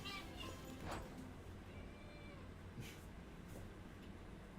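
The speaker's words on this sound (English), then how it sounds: "The kitten just meows" A kitten gives a few faint, short meows in a steady, noisy background, with occasional talk underneath.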